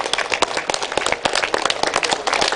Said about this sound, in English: Please give them a rising ovation.